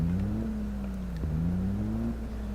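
Deep diesel semi-truck engine in the BeamNG Drive game at higher revs, a low droning tone whose pitch climbs, dips and climbs again, loud and steady with no talk.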